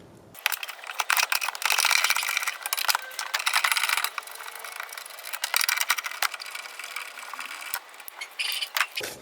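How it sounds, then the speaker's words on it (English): A ratchet and socket wrench loosens the strut bolts on a 2012-2016 Honda CR-V, giving bursts of close, dry metallic clicking and rattling that start and stop in uneven runs, with no talk. "I'm just going to have to use regular wrench and ratchet and socket to get those last 3"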